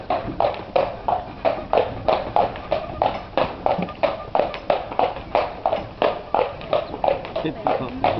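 A single horse's hooves clip-clop steadily on a town street while hauling a cart through Tenby, South Wales, a regular close rhythmic beat throughout, with someone talking over it.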